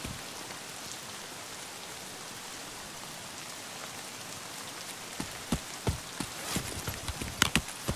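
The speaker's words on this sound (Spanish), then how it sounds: "Hostia, para de llover, tío." Steady rain falls in the shooter game Escape from Tarkov on the Shoreline map, a dense continuous hiss with sharper drop hits and taps growing louder toward the end.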